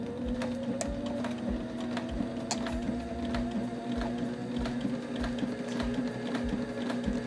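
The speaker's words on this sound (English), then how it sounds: "And then we can sew this hem." A sewing machine fitted with a binder attachment stitches a fabric hem, its needle ticking in a fast, steady rhythm over a constant motor hum, close and fairly quiet, with no talking.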